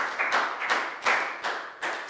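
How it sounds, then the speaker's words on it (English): Small classroom group clapping for a student during a Year 4 science lesson, heard as several short bursts of close, light hand claps. No talking is heard. "Big round of applause for Ned."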